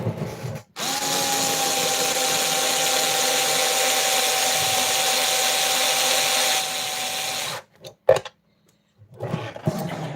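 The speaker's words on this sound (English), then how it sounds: "Because of the cordless drill." A cordless drill whirs steadily for about seven seconds at close range, then stops, followed by a few clicks and brief handling noises.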